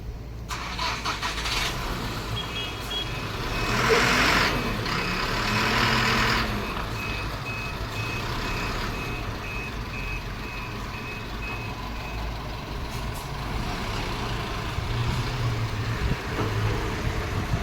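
A truck on a road pulls away with engine rumble and a surge around the middle, while a steady reversing-style beep repeats for several seconds before the sound settles into a lower road hum.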